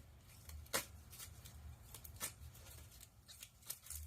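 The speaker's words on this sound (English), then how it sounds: "Let me shuffle and I'm going to go right on in." Soft repeated riffling and flicking of oracle cards being shuffled, quiet and close, in irregular bursts with no voices.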